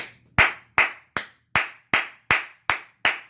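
A single person claps alone, nine sharp, evenly spaced hand claps at a steady moderate pace, close and crisp over a faint low hum.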